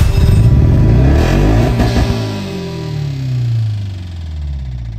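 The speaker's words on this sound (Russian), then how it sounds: "Газ в полу застрял, мотор застучал" A car engine knocking under a fully floored gas pedal, a loud low rumbling drone that surges and then eases off into uneven, wavering engine noise, with no voices.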